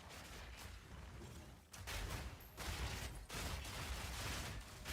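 Continuous rumbling blasts and gunfire-like bursts from a video game battle, loud and dense with brief dips between volleys, no voices over it.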